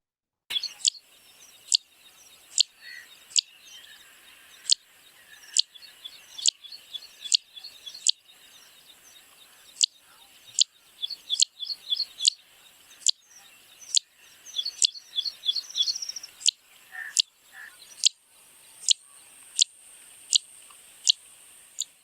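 A bird in India repeats a sharp wick call about once a second in an even series. Softer chirps from other birds fill the gaps, and nothing else is heard.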